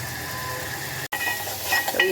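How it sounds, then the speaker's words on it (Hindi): Masala sizzles steadily in hot oil for egg curry, close and continuous, with a brief break and occasional scraping of a spoon against the pan. "इसे हम अब अच्छी तरह मसाला को भी फ्राई कर लेते हैं"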